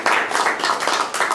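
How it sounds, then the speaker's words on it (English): A quiz night crowd gives a round of applause for the winner, close, loud clapping from many hands in uneven bursts, short and alone. "Can you give Tony Wormsley a nice round of applause,"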